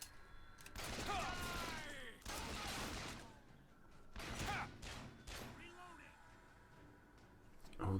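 Bursts of gunfire in the game Bioshock Infinite crack out in several loud volleys with short gaps between them. Mechanical clatter and a speaking voice run underneath.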